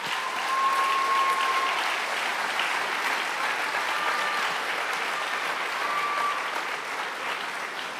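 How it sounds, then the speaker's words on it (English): Steady, even applause from a large audience at a high school senior awards ceremony, continuous clapping holding for several seconds with faint short tones over it. "Everybody, now we can all clap."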